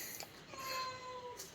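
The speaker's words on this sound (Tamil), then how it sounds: "இந்த பூனை ஒன்று ரொம்ப டார்ச்சர் பண்ணுது" A cat meows in a drawn-out, wavering cry at close range, with a short sharp sound at the end, inside a room with no talking over it.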